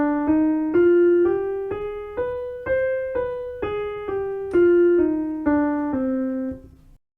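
A C harmonic minor scale of eight bright, sustained tones, each note struck cleanly and rising step by step in an even rhythm, loud and alone.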